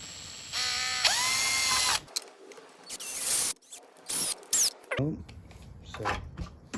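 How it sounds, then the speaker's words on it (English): A power drill whirs in short bursts with rising and falling pitch, mixed with ratcheting clicks as a screw is driven back in during a minibike engine build, close by. "drill it back in."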